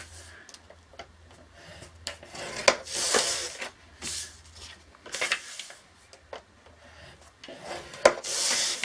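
Paper for a winter-themed mini album is scored on a scoreboard, giving a quiet series of close rubbing and scraping strokes with small ticks between them, arriving in irregular bursts with no talk.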